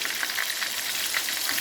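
Chunks of cod or haddock frying in a pan for a chunky fish fry, a dense continuous crackling sizzle with small bubbling pops, close and steady with no voices.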